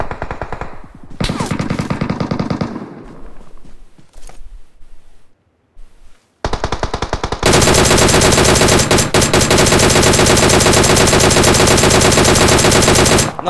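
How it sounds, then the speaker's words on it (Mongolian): Gunfire in the mobile battle royale game PUBG Mobile: bursts of loud, rapid automatic shots, a brief quiet gap, then a long sustained stream of fire that runs to the end. "Эндээс буудаад байгаа."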